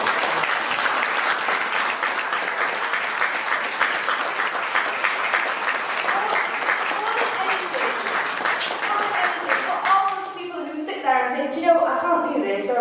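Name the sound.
audience applause at a book launch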